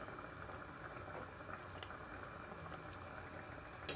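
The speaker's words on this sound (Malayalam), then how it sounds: "ഇത് തിളച്ച് വന്ന് തുടങ്ങിയിട്ടുണ്ട്" A Kerala-style potato and spinach curry boils in a pot, a faint, steady bubbling and simmering with soft popping, ending in a brief clink.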